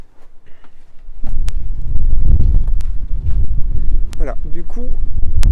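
Outdoors near Cádiz, wind rumbles and buffets the microphone in a loud low roar that builds after a quieter start, with a voice speaking and scattered clicks.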